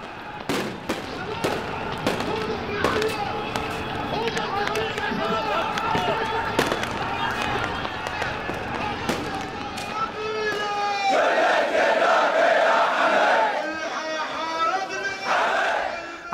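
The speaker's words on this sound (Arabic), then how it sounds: "وردد المتظاهرون شعارات المطالبة بإسقاط النظام والقصاص لدماء الشهداء" A crowd of protesters chants slogans at a candlelit memorial march in Bahrain, loud rhythmic voices mixed with sharp cracks like firecrackers, the chanting swelling louder toward the end.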